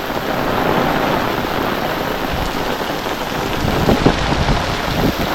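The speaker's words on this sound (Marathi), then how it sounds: "रे भरपूरच पाऊस आहे" Heavy monsoon rain pours down on a village before the Ganpati festival, a loud steady hiss of drops hitting surfaces with low rumbling thunder swelling briefly toward the end.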